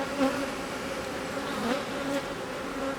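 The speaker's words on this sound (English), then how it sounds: "it's a big bursting box of bees" Honeybees droning inside a big, crowded queenless hive box, a dense continuous buzz with steady hum tones and slight swells, close and alone without voices.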